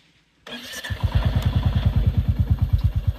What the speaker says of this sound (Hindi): अभी देखिएगा मैं इंजन चालू करके आप लोगों को दिखाता हूँ